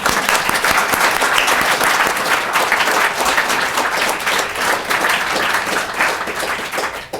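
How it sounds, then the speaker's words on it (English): At a library and information professionals' annual meeting, a seated audience gives a long round of applause for nominees and award winners, a dense steady clapping that thins out toward the end. "If we could just have one last round of applause for all the people who were nominated and all the winners and yourselves."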